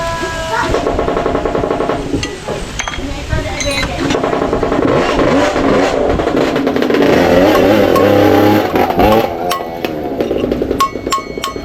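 A nearby motorcycle engine revs up and down repeatedly, rising and falling in pitch, with people talking over it and some clanking.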